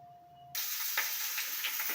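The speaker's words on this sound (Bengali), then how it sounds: "তেল দেওয়ার পরে ক্যাপসিকাম পেঁয়াজ কুলি আর পেঁয়াজের টুকরোগুলো কড়াইতে ছেড়ে দিয়েছি।" Capsicum and onion pieces dropped into hot oil in a kadai set off a sudden loud sizzle after a quiet moment, then keep hissing steadily and close up with small crackling spikes, no voices.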